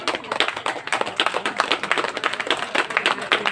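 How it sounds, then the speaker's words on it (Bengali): An audience at a gathering claps in steady, dense applause for several seconds, the many hands close and lively with no break. "হাততালি সবাই, একবার জোরে হাততালি।"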